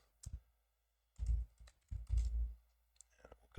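Quiet, sparse keystrokes on a computer keyboard as a command is entered in a terminal, a few short bursts of clicking separated by pauses, close and soft.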